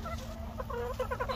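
A rooster and hens cluck at close range on a small backyard flock at feeding time, with a steady run of short clucks and no talking.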